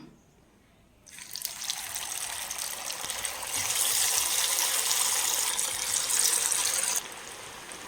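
Chicken pieces go into hot oil in a pan for chilli chicken, setting off a loud, steady hissing sizzle that swells midway and then eases to a quieter simmer near the end, with no voices.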